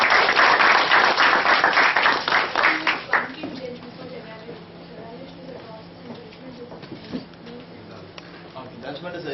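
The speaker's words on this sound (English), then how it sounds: "Big round of applause." An audience claps in a loud, dense round of applause at a motivational talk, lasting about three seconds before fading out as a speaker's voice continues.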